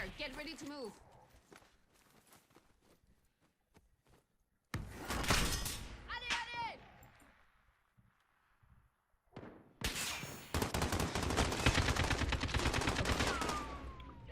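Gunfire bursts in Call of Duty Warzone, with rapid machine-gun strings and single shots in loud clusters separated by quieter gaps holding footsteps and brief talk.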